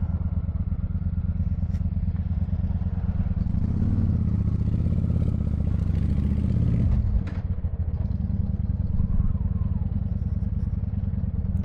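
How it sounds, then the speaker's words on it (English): A Honda VT1100 Shadow Ace motorcycle runs close by with a loud, continuous engine rumble that swells for a few seconds before settling back to a steady throb, with faint clattering mixed in. "I do hear a lot of clanking."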